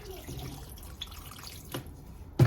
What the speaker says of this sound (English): I will add water so that the broth can be out.